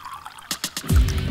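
Water is poured out, starting with a few quick drips, then a louder, close, continuous splashing pour that runs to the end.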